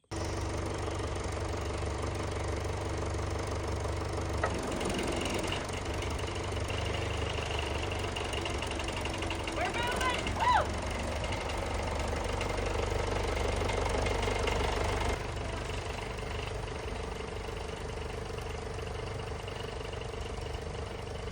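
Engine of a big green farm tractor running steadily at low speed, a close, continuous low rumble with a faint knock and no talk.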